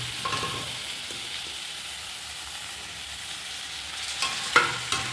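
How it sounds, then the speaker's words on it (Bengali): Spice masala of cumin, tomato and Kashmiri chili powder frying in a pan, a steady close sizzle throughout with a few scraping stir strokes near the end. "মশলাটা একটু ভালো করে কষাই"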